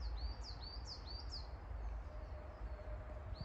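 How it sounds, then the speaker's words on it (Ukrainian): Birds sing in a forest during mushroom picking, a short run of bright chirps and whistled phrases in the first half, fairly faint over low rumbling background noise and then fading out. "Пташки поють."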